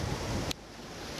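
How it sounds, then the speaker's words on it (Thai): Sea waves washing on a beach at Tachai island, a broad steady rush of surf close by with a brief louder swell near the start, no voices. "มีแต่เสียงคลื่นทะเล"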